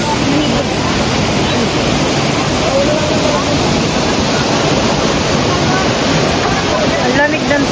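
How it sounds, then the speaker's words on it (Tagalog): Tanawan Falls waterfall roars in a constant, broadband rush of falling water, loud and close throughout with no break. "ito Tanawan Falls"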